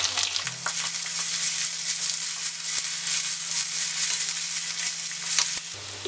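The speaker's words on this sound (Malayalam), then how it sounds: "അതിട്ട് നന്നായിട്ടൊന്ന് മൂപ്പിച്ചെടുക്കുക" Ginger and garlic paste frying in hot oil for a Kerala-style prawn curry, giving a steady close sizzle with occasional stirring scrapes throughout, no voices.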